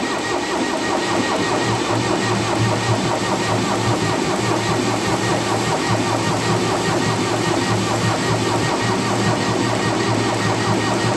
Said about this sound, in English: Now we're gonna crank it over and see if we can get some fuel up to these injectors.